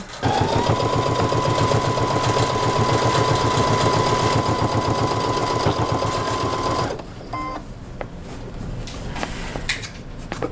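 Brother sewing machine stitching a quilt with mono poly thread, a loud, steady rapid run of needle strokes for about seven seconds, then stopping, followed by quieter clicks and handling noises.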